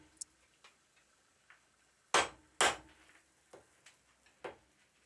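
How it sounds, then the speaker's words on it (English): A blacksmith strikes forge-welded steel on an anvil while tack-welding two small pieces together: two loud ringing hammer blows stand out among scattered lighter taps, close and otherwise quiet. "bring it over to the anvil to finish tack welding both pieces together"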